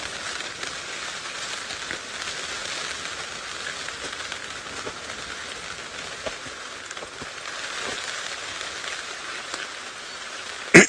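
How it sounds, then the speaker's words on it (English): Heavy rain pours down steadily during an open-vehicle safari drive, a dense, even hiss that lasts the whole time. No voices break through. "it's raining quite hard, and soon these lions are going to be quite soaked"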